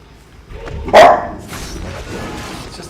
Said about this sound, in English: It's just a dog